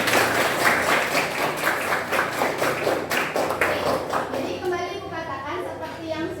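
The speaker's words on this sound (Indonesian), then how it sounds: "Silakan kasih tepuk tangannya dulu." A classroom applauding a student group after its presentation: steady, dense clapping from many hands close by, fading toward the end as children's voices rise over it.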